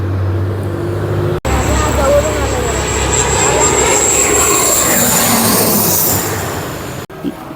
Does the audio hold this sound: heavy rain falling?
no